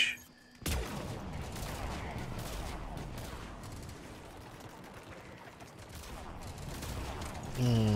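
Sustained gunfire from a Mantis rifle in the sci-fi shooter Mass Effect 3, a steady stream of shots at moderate loudness after a sharp opening crack.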